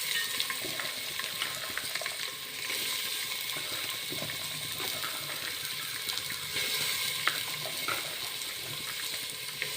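Onion pieces, drumstick pieces and soaked chana dal fry in a pan, giving a continuous close hiss with scattered crackles and faint clinks, and no talk.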